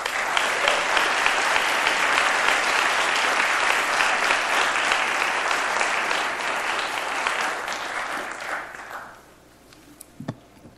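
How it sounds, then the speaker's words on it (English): A large crowd claps steadily in sustained applause that fades out after about nine seconds, followed by a few faint knocks. "I hope you give him a nice round of applause"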